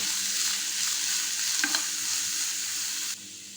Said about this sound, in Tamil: கொஞ்சம் வதங்கட்டும்.